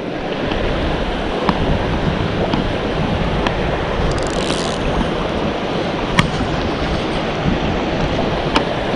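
Wind blowing on the Dordogne river, a loud, constant broadband roar that buffets the microphone without pause for the whole stretch, with faint clicks and no speech.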